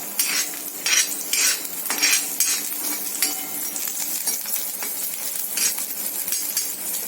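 Onion and chili tossed into a pan with softening garlic for Marathi cashew bhaji, a continuous close sizzle broken by metal spoon scrapes and clinks against the pan, no voices.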